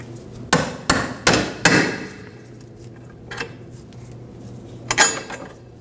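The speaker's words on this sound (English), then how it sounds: "Use a dead blow hammer and bop this out of here." A dead blow hammer knocks a rear control arm bolt out of a 2003-2006 Subaru Baja: four quick, heavy thuds in a row, then a pause and two more blows, close and loud.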